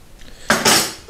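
A spoon scrapes and clinks inside a jar of lard with garlic, one short metallic scrape rising sharply then fading, close and fairly loud with no talking.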